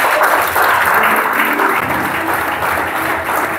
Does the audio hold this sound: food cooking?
no